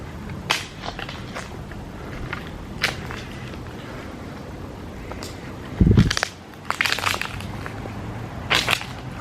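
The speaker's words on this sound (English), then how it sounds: "Stepping on some leaves here" Footsteps crunch through dry leaves outdoors near a hospital building at night, a run of scattered rustling steps with one heavier, louder crunch partway through, close and without talk.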